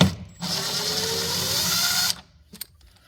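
A tool loosens a quarter-inch nut on a Stern pinball flipper button in a close, continuous whirring, ratcheting burst of about two seconds, then stops, leaving a few faint clicks.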